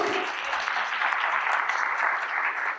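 A school community event audience applauds for Maria Mitter, a steady, even wash of many hands clapping, fairly loud and sustained throughout without speech.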